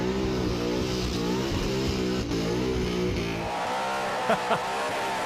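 A loud injected burnout car engine, switched from methanol carburettors to an injector hat, roars at high revs with a harsh, steady drone, then the pitch shifts as the engine note changes near the end.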